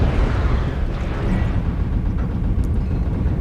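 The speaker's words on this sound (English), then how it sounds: "Just some missiles going in." Missiles hitting in MechWarrior Online, a loud dense roar of overlapping explosions rumbling continuously throughout.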